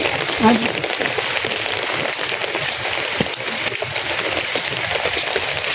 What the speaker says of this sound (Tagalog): Kasi po umuulan, kumukulong.